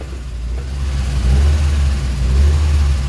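A Mazda Miata with a newly converted manual gearbox and a seized, stuck handbrake side revs loudly and close, a rough low engine drone that builds steadily with a slight rise in pitch, without talk.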